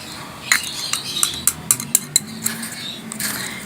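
A spoon clinks repeatedly against a container while stirring a medicine mixture containing kalonji oil and taramira oil, producing a series of bright, close metallic taps in an uneven rhythm, with no talking.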